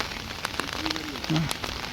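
Heavy monsoon rain in Mahilpur, Punjab, patters on a surface in a dense, even hiss, with a few brief faint tones rising above it.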